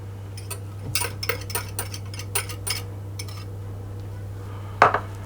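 Utensils tap and clink against a mixing bowl as vanilla extract, a whole egg and an egg yolk go in for oatmeal cookie dough. The taps are light, close and scattered, and one sharper knock comes near the end without any talk.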